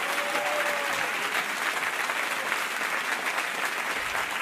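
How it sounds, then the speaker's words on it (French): Rally crowd applauding Mélenchon during a speech on leaving NATO, steady dense clapping throughout with a faint whistle near the start, sustained and fairly distant. "ça tombe bien que vous m'applaudissiez"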